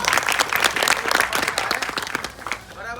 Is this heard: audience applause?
yes